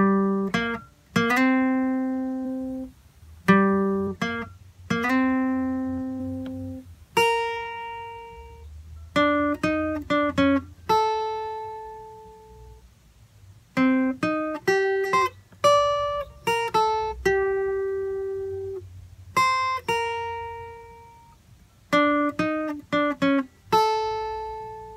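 A guitar plays the full opening phrase of a song, bursts of quick plucked notes alternating with held ringing tones across a long, unaccompanied passage, close and moderately quiet.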